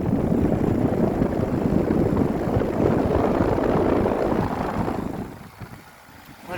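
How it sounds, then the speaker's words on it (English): An old 1993 Arcoaire 1-ton round air conditioner with a rotary compressor runs outdoors with a steady, loud broadband whir and rumble, dropping away near the end. "an old Arcoaire round unit. That's a 1 ton unit with a rotary compressor"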